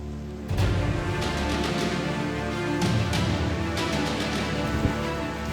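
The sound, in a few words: heavy rain on a fort trek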